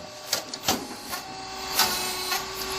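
A confectionery puffing machine popping with sharp, irregular bursts over a steady mechanical hum, several distinct pops spaced unevenly across a few seconds.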